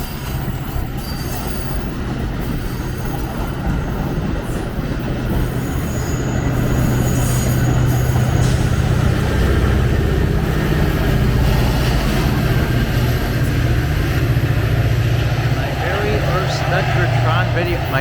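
A METRA commuter train pulling out of the station in Lombard, with a steady rumble of railcars rolling past close by, rising in loudness midway, wheels squealing faintly and a voice talking over it.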